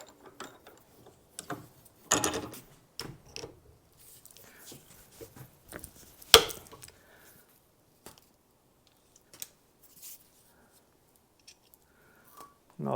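Doyle 18-inch compound bolt cutters close on a 5/16 bolt. Quiet scattered clicks and creaks of the jaws lead to one sharp snap as the bolt parts, then near silence.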